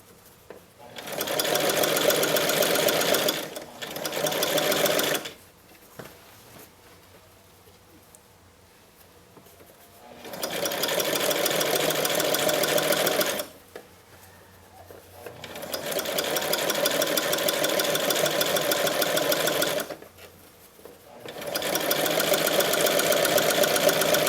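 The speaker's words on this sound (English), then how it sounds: "And I'm just sewing the seam allowance." A sewing machine stitching a skirt's seam allowance runs in four close, steady bursts separated by quiet pauses, with no one talking.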